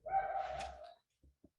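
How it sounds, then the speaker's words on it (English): A puppy dog in the background gives one drawn-out, whining bark lasting about a second, faint and distant, followed by a couple of soft knocks. "You might hear some puppy dogs in the background."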